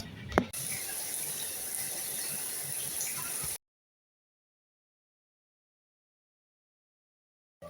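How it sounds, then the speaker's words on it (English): Shower water runs steadily as a loud, hissing spray for a few seconds with a brief knock near the start, then cuts off into silence. "Anyway, time for a shower."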